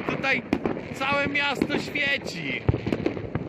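Fireworks and firecrackers go off across Reykjavik on New Year's Eve, with sharp bangs and crackles scattered under someone talking close to the microphone.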